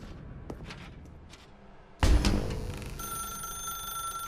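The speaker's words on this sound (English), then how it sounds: "Now pick up the phone." In The Stanley Parable Ultra Deluxe, an old-style telephone bell rings out loud and sharp after a few quiet knocks, its metallic ring sustained and close.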